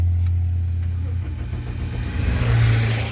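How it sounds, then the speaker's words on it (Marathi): A car engine starting with the clutch held down during a driving lesson, a low steady hum that settles and then swells as it revs toward the end, close and fairly loud. "आता क्लच दाबून गाडी चालू करायची"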